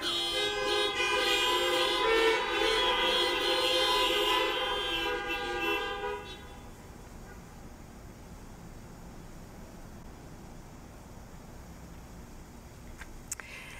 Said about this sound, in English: we're going to hear all these horns and we're going to think that they're all sharing the peace with us